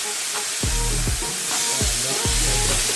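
Korean short ribs (galbi) sizzle loudly and steadily on a hot cooking surface, a dense continuous hiss with brief crackling pops, close up and with no voices.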